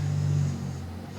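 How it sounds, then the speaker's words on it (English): A car passes close outside, its low engine rumble rattling the windows in a brief, loud hum that fades slightly over about a second. "Was that the car driving by and something vibrating against our fucking windows or something?"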